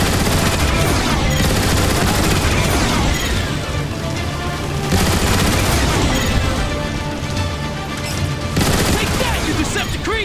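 Heavy turret gun emplacement fire in Transformers: War for Cybertron, a loud, dense stream of rapid shots and booming impacts that runs almost the whole time, easing briefly in the middle and again near the end.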